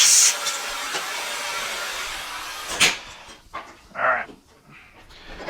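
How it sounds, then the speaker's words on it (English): A central vacuum cleaner sucks up debris with a loud, airy rushing hiss for about three seconds, then falls to a quieter hiss broken by short bursts and rattles. "let's go ahead and grab our central vacuum real quick and get some of this debris"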